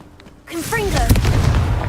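Confringo spell explosion in Hogwarts Legacy, a sudden heavy boom that swells and rumbles, with a short vocal cry layered on top.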